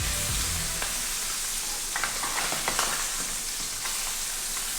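Fish fillet frying in a non-stick skillet, a steady close sizzle with a few sharp crackles as it is flipped, no voices.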